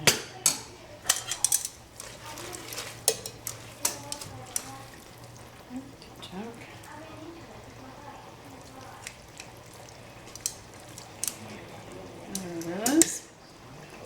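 Spaghetti and meatballs being served into a dish, with scattered clinks and scrapes of utensils against cookware and dishes, fairly close, under intermittent talk and a steady low kitchen hum.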